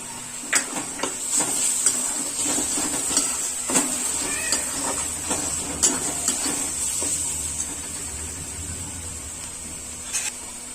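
Browned onion and ginger-garlic paste fry in a pan for masala mushroom, a soft sizzle beneath repeated sharp scrapes and clinks of a spoon stirring against the metal.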